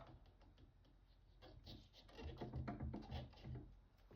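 Quiet scraping and rasping of a razor blade shaving dried wood filler level on a drawer front, with short strokes that grow slightly louder midway.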